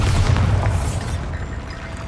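The Bombarda blasting spell goes off in Hogwarts Legacy with a loud booming burst that rumbles and fades into a trailing whoosh.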